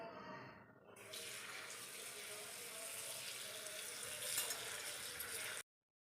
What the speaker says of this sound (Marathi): स्वच्छ पाण्यात धुवून घेऊयात.